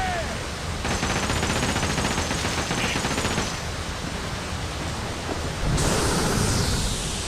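Booming cannon fire in a pirate video game, a dense, continuous barrage of blasts and rumbling noise that swells louder near the end.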